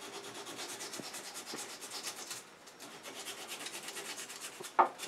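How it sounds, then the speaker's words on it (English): Hand sanding with 120 grit sandpaper on a wooden drawbar for Morse tapers, a quiet steady rhythmic rubbing with brief louder scrapes, heard alone. "we're going to get some sandpaper, 120, and just kind of work it in a little bit"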